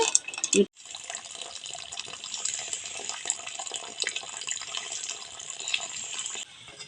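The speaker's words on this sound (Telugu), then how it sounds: "పాలు ఉరిగిపోయినాయి కదండి అందులో ఉన్న నీళ్లు పంపేసానండి" Whey water poured off curdled milk while making paneer in a village-style kitchen: a steady, bright splashing pour running for several seconds after a brief knock at the start.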